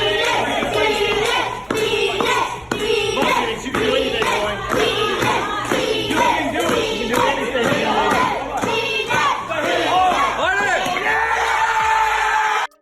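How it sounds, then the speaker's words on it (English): Loud crowd cheering and shouting encouragement for a boy trying to break a board, with whoops, yells and some clapping, energetic and continuous before cutting off abruptly. "everyone around him rallied to cheer him on"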